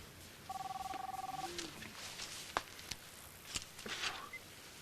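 A cell phone rings in a small room with a fast trilling electronic tone lasting about a second, then stops, followed by sharp clicks, footsteps and soft movement.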